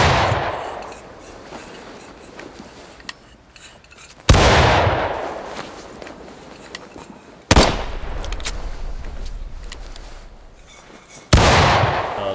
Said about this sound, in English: So just continuous fire once you're loaded.